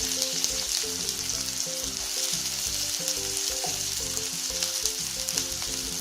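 Spring onion whites and cabbage for veg fried rice sizzle in a hot pan, a dense continuous frying hiss with light stirring underneath and steady background music, with no talking.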